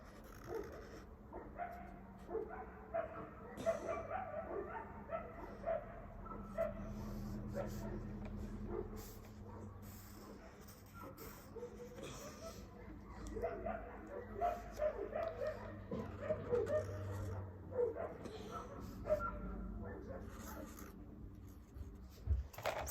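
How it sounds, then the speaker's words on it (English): A pet dog barks and whimpers in short intermittent bursts through a steady background of household noise and faint activity, fairly close but not loud. "it's just my dog"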